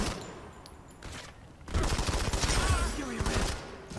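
Rapid automatic gunfire in the shooter game Modern Combat 5: Blackout, a dense sustained burst of rattling shots filling the second half after quieter opening moments.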